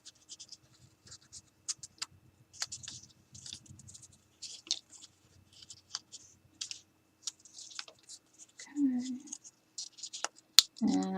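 Paper being folded and creased by hand for paper flowers, a run of soft, dry crinkles and sharp scratchy rustles close by, with a few brief louder handling sounds near the end.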